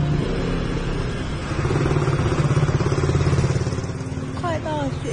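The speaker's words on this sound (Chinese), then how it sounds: "妈妈用摩托车带着我去赶早自习" A motorcycle ridden along a street on a cold winter morning, its engine humming steadily and a rhythmic chug rising midway, with a brief voice near the end.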